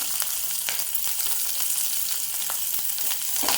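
Grated coconut sautés lightly in a pan for ginger chutney, giving a soft, continuous frying sizzle with faint crackles and occasional light stir ticks, close and steady throughout with no talk.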